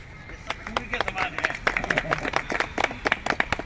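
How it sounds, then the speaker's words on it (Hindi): A crowd claps along at a Subhash Chandra Bose birth anniversary celebration, a dense run of sharp claps at a steady rhythm while people talk over it. "ताली थोड़ी थोड़ी साथ में बजाते रहे तो अच्छा रहेगा"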